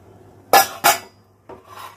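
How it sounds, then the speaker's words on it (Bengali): A metal lid is lifted off a pot of chicken boiled in water with a little turmeric, giving two sharp scraping clanks close by, followed by a softer rattle. "ঢাকনা দিয়ে সিদ্ধ বসিয়েছিলাম এবার খুলব"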